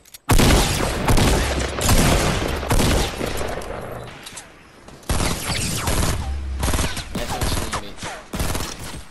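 Rapid assault rifle fire in Fortnite Battle Royale, loud sustained bursts rattling close by, with a short pause before shooting resumes in another long volley.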